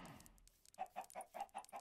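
A Minecraft chicken clucks in a steady series of about six short, evenly spaced calls, fairly quiet and heard on its own with no talking.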